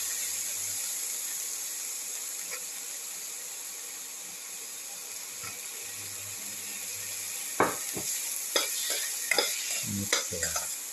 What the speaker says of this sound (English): Thoroughly sauteing it. Put in the potato pieces.